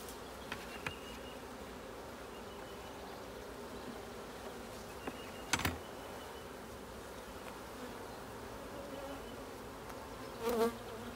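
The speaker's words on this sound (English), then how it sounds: "All the bees are, new bees are out front." Honey bees buzzing steadily around a hive being split, a dense continuous drone close by with a few brief bumps and taps, no voices.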